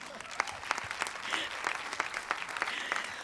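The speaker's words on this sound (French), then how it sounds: "On peut l'applaudir." Audience at a film festival closing ceremony applauds a jury member, a modest, fairly distant patter of scattered claps with distinct individual hand strikes throughout.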